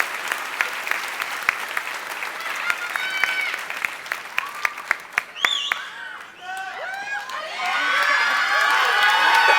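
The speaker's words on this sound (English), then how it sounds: "Everyone but the graduates, please give them a round of applause." Commencement ceremony crowd applauding the graduates, steady loud clapping with cheers and whoops rising toward the end, close and sustained.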